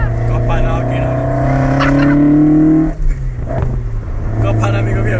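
A kit car's engine revs loudly and close by, its pitch rising in a strained drone that cuts off partway. A rougher idle and some voices follow.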